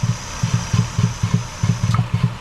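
Engine on a vehicle named Gravy, idling with a regular low thump-thump pulse as a valve cracks open and lets exhaust gases back in, eight or so evenly spaced, close and loud beats over a steady hum.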